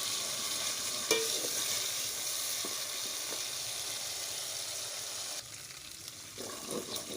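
Garlic, ginger and green chili paste frying with browned onions in a pan for a tanda beef dish, a steady low sizzle with a sharp clatter early on and quieter stirring scrapes toward the end.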